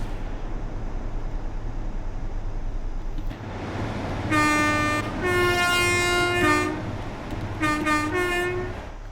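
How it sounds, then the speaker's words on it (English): Class 150 diesel units passing on the line near Exeter in Train Sim World 6, with a low rumble and, from about four seconds, long harmonic horn-like tones sounding in two bursts over steady rail noise. "There comes a 150 off of the line from Salisbury, and there goes another the 150 we had originally."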